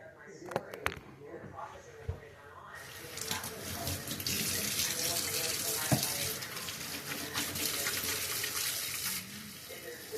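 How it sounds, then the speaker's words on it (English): After a few clicks and knocks, a kitchen tap turns on and water gushes steadily into the sink for hand washing, close and loud, with a voice faintly under it. "I'm about to wash my hands, put the meat in the pot."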